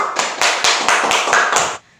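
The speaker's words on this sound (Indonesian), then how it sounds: "Tepuk tangan." Rhythmic group clapping by schoolchildren in a classroom, about seven sharp, evenly spaced claps in unison, close and loud, then stopping abruptly.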